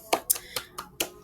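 A few scattered hand claps from a school classroom ring out close and sharp, about five separate claps in an uneven rhythm with no talking.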